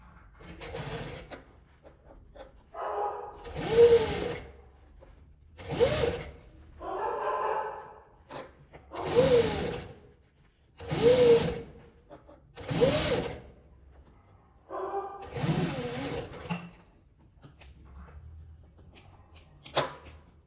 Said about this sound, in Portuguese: Agora eu vou passar uma costurinha pra fechar essa parte aqui pra rebater.